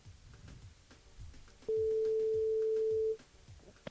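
A ringback tone from a radio station's live phone-in call to a listener, heard as a single steady tone lasting about a second and a half among faint, regularly spaced background pulses.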